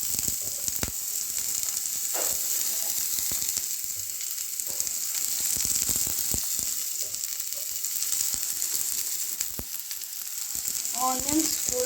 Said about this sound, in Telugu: సో ఇవి ఫ్రై చేస్తుండగానే మిర్చి కూడా వేసేయాలి